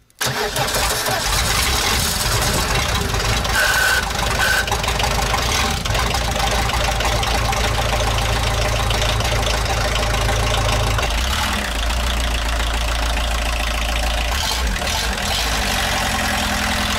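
A ZIL truck crane's engine runs loud and steady close by, a continuous mid-pitched idle rumble that shifts slightly near the end.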